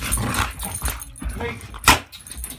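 Young pit bull dogs playing, giving short scattered barks, yips and whimpers up close, one bark sharper and louder near the end, while a person talks over them.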